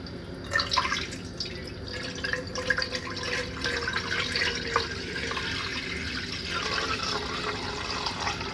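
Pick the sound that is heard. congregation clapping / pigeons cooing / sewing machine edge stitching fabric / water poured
water poured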